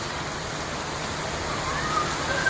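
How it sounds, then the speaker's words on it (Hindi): Steady, dense rush of broadband noise like heavy rain pouring down, continuous and fairly loud throughout with no voices. "देखो कितना तेज बारिश आ रहा है।"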